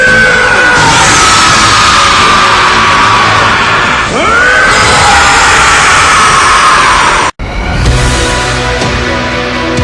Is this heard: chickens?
no